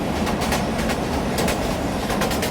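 New York subway H train bound for Beach 70th Street, running steadily on its tracks with a continuous loud rumble and rhythmic clacking of wheels.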